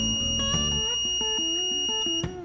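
An Arduino buzzer driven by a for-loop sounds a series of electronic tones alongside sustained high pitches, in a steady stepped pattern up close.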